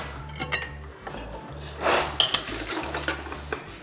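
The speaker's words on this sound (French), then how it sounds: "on va prendre un saladier Excellent. et un fouet" A salad bowl and whisk being picked up and set down, with clattering of metal and dishware in a kitchen, a few close clinks and knocks with little talk.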